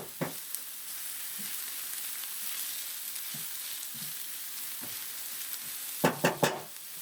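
Onions frying in a cast iron skillet, a steady soft sizzle close by with occasional light scrapes and taps of a utensil, and a quick cluster of louder knocks near the end.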